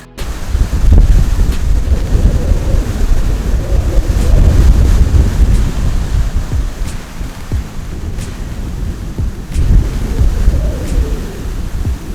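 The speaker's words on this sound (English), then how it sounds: "The wind's blowing" Strong wind roars and buffets continuously at close range at a lakeside, with heavy low rumbling gusts and a lapping water texture underneath.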